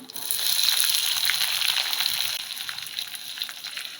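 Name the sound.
chopped onion frying in hot oil with mustard seeds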